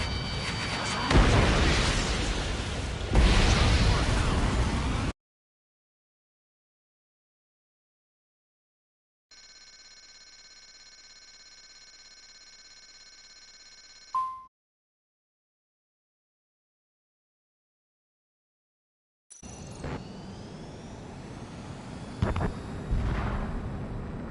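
Missiles firing and exploding in a flight combat video game, with loud roaring bursts and booms at the start and end, a stretch of silence, and a tonal warning-beep passage between them, with no talking.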